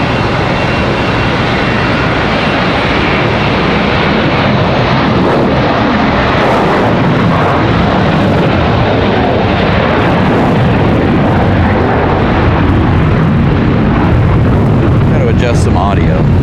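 A jet airliner departing close by at Charlotte Douglas airport, a loud, sustained broadband engine roar with a deep rumble that holds steady and full throughout.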